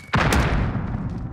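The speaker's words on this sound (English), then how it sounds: "Throwing grenade!" A grenade explosion in the Call of Duty: Modern Warfare video game, one sudden deep boom close by, followed by a long rumbling decay of roughly a second, with no talking.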